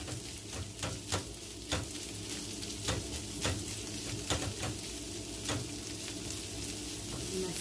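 A potato filling with chorizo fries in a pan under a constant soft sizzle, punctuated by repeated sharp scrapes and clicks of a utensil stirring it, close with no talking.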